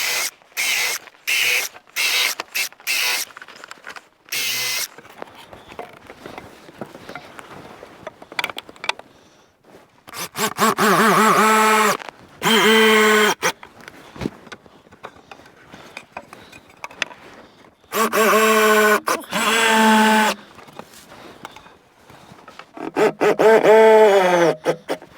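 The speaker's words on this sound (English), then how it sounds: "since they're ash, I'm going to have to pre-drill them to put my screws in" A power drill pre-drills screw holes in ash wood, whirring in several bursts of varying length, some short and rapid, others sustained for a couple of seconds, close and loud with quiet gaps between.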